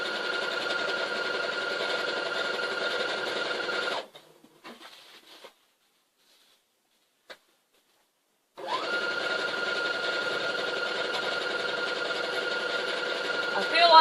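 A sewing machine runs in a steady, fast mechanical whir, stops for a few seconds of near silence with a faint click, then starts stitching again.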